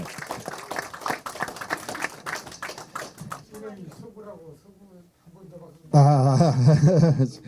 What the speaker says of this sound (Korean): 한 번 더 박수 좀 주십시오